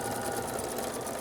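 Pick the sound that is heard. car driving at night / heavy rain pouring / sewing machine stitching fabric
sewing machine stitching fabric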